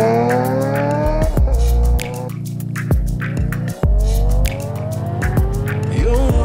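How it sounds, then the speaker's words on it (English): A motorcycle with a loud, short exhaust revs hard again and again close by, its pitch climbing and dropping in sharp bursts. "Shorty exhaust."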